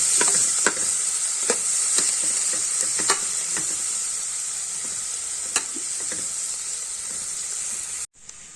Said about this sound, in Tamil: இதில் ஒரு ஆனியன் ஒரு சில்லி இதை இதை நம்ம நல்லா வதக்கிக்குவோம்